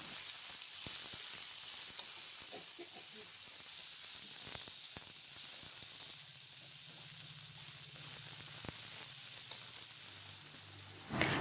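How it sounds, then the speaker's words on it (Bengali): Chopped onions sizzle in hot oil with dried red chilli, a bay leaf and cumin, a steady close hiss that runs without break and stays fairly loud throughout. "কেটে রাখা পেঁয়াজগুলো তেলের মধ্যে দিয়ে দেব।"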